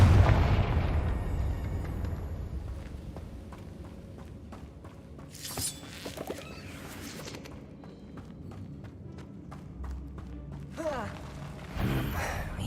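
Confringo explosion spell cast in the video game Hogwarts Legacy: several sharp fiery blasts and crackling bursts flare up over a rumbling game background, spaced a few seconds apart.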